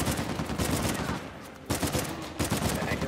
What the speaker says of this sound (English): Oh, it's burst fire.